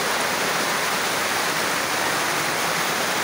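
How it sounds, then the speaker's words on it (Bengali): A heavy rainstorm at the Talma weekly market pours down in a loud, steady roar of dense rain with no breaks, filling the whole clip. "এত ঝড় বৃষ্টি হচ্ছে, দারুণ দারুণ অতিরিক্ত ঝড় বৃষ্টি হাটের মধ্যে আজকে"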